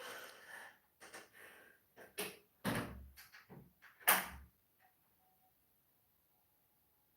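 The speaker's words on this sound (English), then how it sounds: "Close my door, please, and thank you." A bedroom door closes in a home with a few sharp knocks and thuds, preceded by muffled household movement, followed by near silence.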